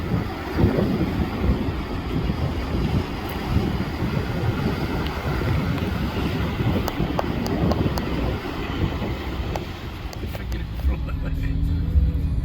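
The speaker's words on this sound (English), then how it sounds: "It is a bit windy." Steady wind buffeting and rushing across the microphone throughout, loud and continuous, with a voice speaking underneath, on a road from Caleta de Fuste to Antigua, Fuerteventura.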